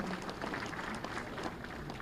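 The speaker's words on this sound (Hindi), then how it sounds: "जोरदार तालियां आपके लिए" Audience applause at an award ceremony in Lucknow honouring farmers and agricultural scientists, a steady crowd clapping for a woman prizewinner taking the stage, moderately distant and even throughout.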